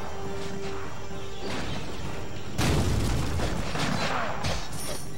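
Heavy booming blasts and crashing impacts of cannon fire in Pirates: The Legend of Jack Sparrow, with a loud burst of explosions midway that continues in rumbling bursts.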